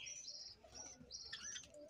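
Java sparrows chirping inside their aviary house, a flock of high, thin tweets and trills overlapping continuously at moderate volume, with no voices.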